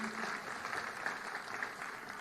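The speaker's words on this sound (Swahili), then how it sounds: "Tumpigie makofi." An audience at a Jamhuri Day celebration claps in a soft, steady patter of applause, heard faint and somewhat distant throughout.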